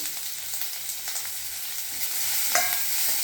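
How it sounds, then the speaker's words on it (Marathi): Plenty of onion dropped into a hot tempering of cumin, asafoetida and turmeric for a potato stir-fry gives a continuous sizzle and crackle, with a few stirring scrapes and a sharper burst of frying near the end. "आपण त्यात कांदा भरपूर घालायचा।"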